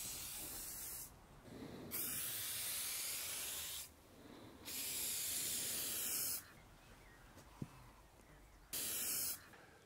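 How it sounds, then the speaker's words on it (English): Bursts of aerosol spray from a canister onto a van body panel, four long hissing passes of a few seconds each separated by short pauses, close and steady, with a faint click between runs. "when you spray the panel, you've got to work from edge to edge"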